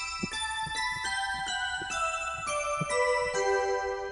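Quick bell tones from a preset on a Roland Fantom synthesizer: a bright, descending sequence of about eight chiming notes in a steady rhythm, each one ringing on as the next strikes.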